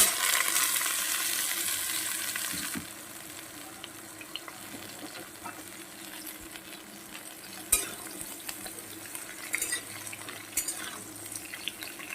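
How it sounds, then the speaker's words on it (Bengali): Drumstick (moringa) vegetables fry and get stirred in the little oil left over from frying lentil dumplings. A steady sizzle runs alone throughout, louder at first, with occasional scrapes and clinks of stirring. "ওই তেলে আমি সবজিগুলো হালকা করে একটু ভেজে নেব"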